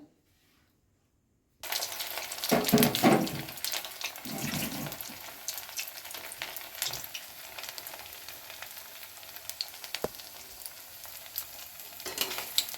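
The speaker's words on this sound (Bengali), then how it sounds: "ফিশ ফিঙ্গারগুলো ভাজার জন্য আমি কড়াইয়ে তেল গরম করে নিয়েছি এবারে ফিশ ফিঙ্গারগুলো একে একে দিয়ে আমি" Fish fingers frying in hot oil in a wok, a steady crackling sizzle that starts after a brief silence, with a louder burst of spitting as pieces go in, then continuous bubbling hiss with occasional sharp pops.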